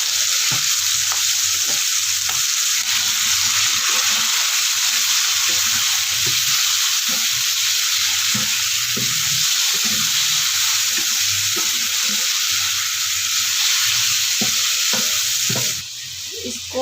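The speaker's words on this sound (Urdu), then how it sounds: "اب اس میں ہم یہ کلیجی ڈال دیتے ہیں جو میرینیٹ کر کے رکھ دی" Marinated liver (kaleji) frying in hot oil gives a loud, continuous sizzle close up, with repeated stirring scrapes and knocks throughout, no talk.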